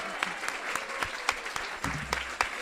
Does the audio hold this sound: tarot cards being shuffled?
no